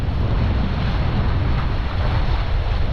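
Strong wind buffeting the microphone on a remote island shore while fishing, a loud, steady roar with surf-like rumble and no voices.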